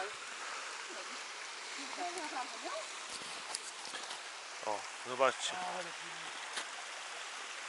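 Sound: cold mountain stream flowing

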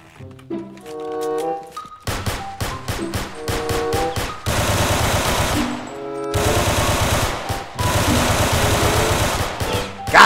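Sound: gunshots in Roblox Bronx hood video game

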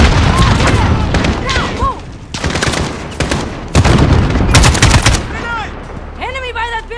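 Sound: grenade explosion and gunfire in Modern Warfare video game

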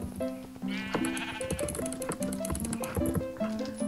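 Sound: sheep bleating in video game Minecraft

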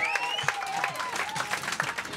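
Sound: crowd applauding on a booze cruise

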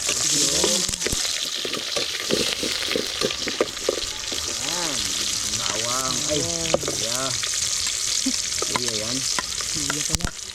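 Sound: onion sautéing in a pan

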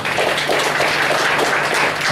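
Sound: congregation clapping hands for God

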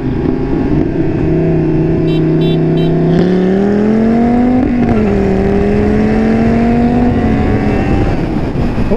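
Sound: 500HP Dodge Viper accelerating hard

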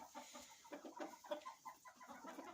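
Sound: rooster and hen clucking in a nest

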